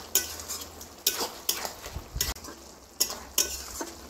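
A pan of fried shrimp and bottle gourd is stirred with a utensil, giving about half a dozen distinct scraping strokes over a soft, steady sizzle, close up with no voices.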